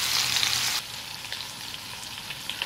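Garlic butter chicken thighs sizzle steadily as they brown in a camp pot, a close, bright frying hiss that is loudest at first and then settles into a softer crackle with small pops.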